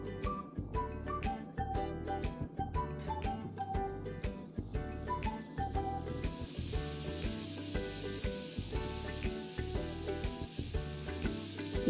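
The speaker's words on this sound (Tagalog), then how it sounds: "Painitin muna natin ang sizzling plate bago lagyan ng butter." Butter sizzling on a preheated hot sizzling plate for a seafood dish, a steady crackling fry with clinking utensil sounds throughout, close and fairly loud, no talking.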